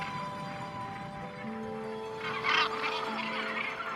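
A dense gannet colony calls on Bass Rock off Scotland, tens of thousands of seabirds blending into a continuous distant wash of harsh cries, with a louder burst of nearer calls partway through.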